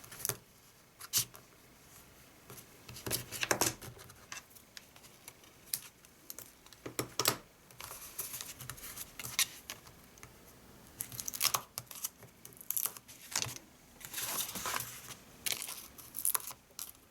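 Adhesive tape being pulled, torn and pressed onto a large stamped-paper gift box, with crackly bursts of tearing and crinkling at an irregular pace, close and fairly quiet, no talking.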